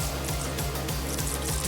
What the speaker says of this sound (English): Now I'm making some water in a bucket